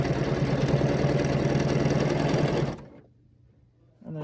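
A sewing machine runs in a fast, steady hum of stitching along a quilting ruler, then stops abruptly, leaving near silence before a faint sound resumes at the end.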